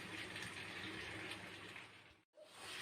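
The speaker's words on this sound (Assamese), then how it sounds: "এতিয়া মই ইয়াতে পানী দিম।" Water pours steadily into a pot of chicken curry, a continuous gushing rush with a brief break near the end before the flow resumes.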